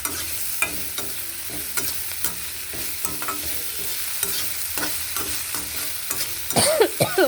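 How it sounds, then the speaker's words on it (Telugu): Cashews frying in a pan, a steady sizzle broken by repeated rhythmic stirring scrapes of a spoon, growing busier and louder toward the end. "జీడిపప్పు వేసి అలా వేయించడం"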